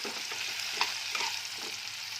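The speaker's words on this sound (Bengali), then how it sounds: "এবার আমি আলুটাকে একটু ভেজে নেব লাল লাল করে।" Potato pieces seasoned with salt and turmeric fry in a pan with a dense, even hiss and light scraping stirs, fairly quiet and close.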